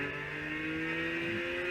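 A turbocharged six-cylinder car engine in Gran Turismo 6, droning at a steady high rev with a sustained whine, fairly faint and continuous with a slight pitch change near the end.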